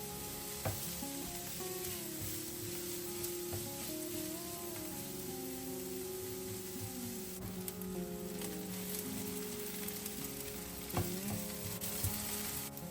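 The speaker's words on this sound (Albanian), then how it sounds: "do të hedhim përsëri pak vaj dhe do të skuqim 2 qep mesatare" Onions sizzle and fry in oil in a pan for traditional fërgesa with liver and curd cheese, a steady close crackle with occasional stirring clinks throughout.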